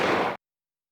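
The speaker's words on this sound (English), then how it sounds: "A gunshot rang out through the shop" A single sharp gunshot in The Great Ace Attorney video game cracks out inside a shop, a loud close burst lasting about a third of a second before cutting to silence.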